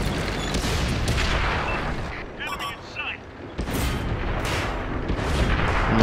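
Tank cannon fire in World of Tanks, a barrage of loud booming shots and blasts with a short lull midway, under excited voices talking.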